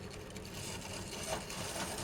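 A small 00 gauge plastic model locomotive's electric motor runs continuously with a faint, steady whirring hum, fairly quiet and unaccompanied by talk.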